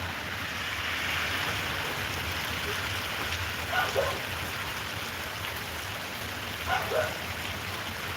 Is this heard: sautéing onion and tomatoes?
no